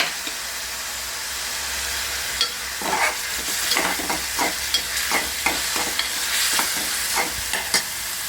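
Onions being stirred and roasted in a pan for a raw mango and tomato chutney: a soft continuous sizzle broken by repeated scraping strokes of a spoon, close by, with no talking.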